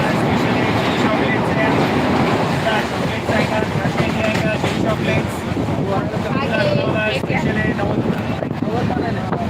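A Shatabdi express train runs along past a creek, its steady rumble and rattle carrying on without a break under wind buffeting, with voices talking over it.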